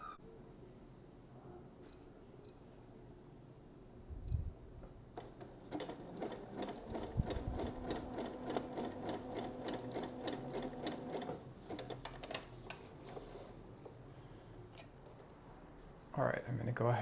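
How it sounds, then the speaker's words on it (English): A sewing machine threaded with black thread runs a zigzag stitch across the end of a handwoven inkle-loom belt, a close rapid mechanical clatter that starts after a few quiet seconds and hums for several seconds, with soft handling thumps around it. "I have my sewing machine out, threaded with black thread, and I'm just gonna do a zigzag stitch on one end of the belt"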